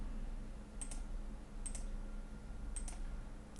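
Three soft, separate keyboard key clicks, spaced about a second apart, sound over a steady low room hum while someone works on a computer drawing in CAD software.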